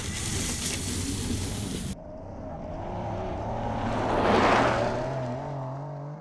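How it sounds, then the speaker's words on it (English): Porsche 911 Dakar off-road-capable sports car driving past, a broadband engine and tyre roar that cuts off abruptly, then a lower engine drone swelling to a peak and fading, with no speech. "The new 911 Dakar is a sports car that is just as suitable for off-road driving as it is"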